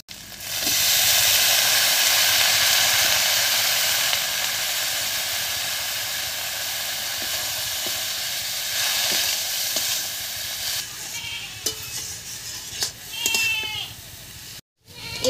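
Chopped banana stem dropped into a pan of dried fish, onion, garlic and green chili, setting off a loud, steady frying hiss that fades toward the end among scattered clinks and scrapes.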